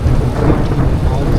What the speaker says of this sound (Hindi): बाहर ज़ोर व शोर से बारिश जारी है, शदीद बारिश है।